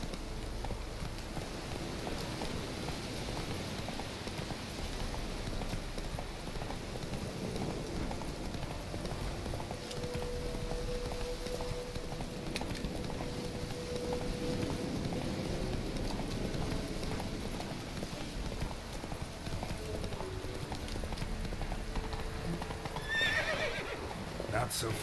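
Roach, the horse in The Witcher 3, gallops with a steady, rapid run of hoofbeats through rain. A brief whinny rises near the end, and a voice talks faintly over it.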